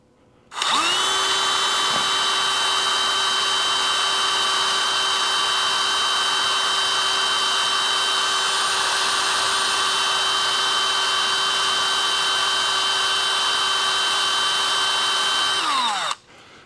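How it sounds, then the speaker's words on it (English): A power drill bores into hard metal for a hydraulic motor adapter, a loud steady whine that spins up sharply, holds evenly for about fifteen seconds and then winds down. "I don't like drilling this hard stuff."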